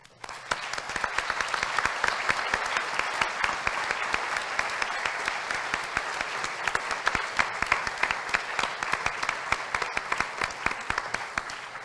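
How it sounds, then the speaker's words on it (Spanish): Sustained applause from an audience at a public presentation of a report, steady dense clapping that carries on alone for about twelve seconds. "Bien merecidos los aplausos que se han dado esta mañana."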